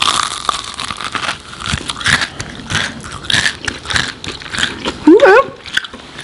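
Someone bites into McDonald's BTS meal chicken nuggets: a series of soft, close crunches and chewing sounds with a brief voice breaking in.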